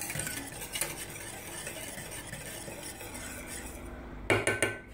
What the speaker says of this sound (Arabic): ونخلطوا مليح حتى نحسوا باللي الجيلاتين دار مع المقادير الاخرين